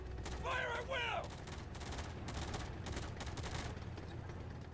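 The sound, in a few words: rifle squad gunfire in War Alert video game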